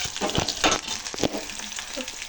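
Spicy egg curry masala fries in a pan, a soft sizzle broken by scraping stirs and a few clattering strokes of a spoon, close and fairly quiet.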